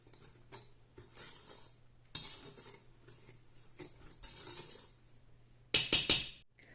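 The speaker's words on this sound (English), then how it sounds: "I'm just going to add in my poppy seeds. I'll be adding in 2 tablespoons. I'll whisk this together." A whisk clinks and scrapes around a bowl as poppy seeds are stirred into muffin batter: soft, uneven patter for several seconds, then a few louder rapid taps against the rim near the end.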